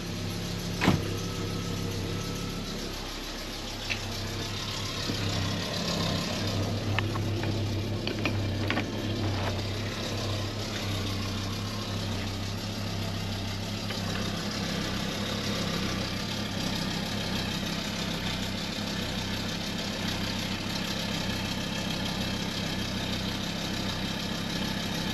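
An Audi 100 engine idling outdoors, a steady mid-pitched hum with a faint rattle, after a brief clunk at the start, close and unchanging for the whole stretch.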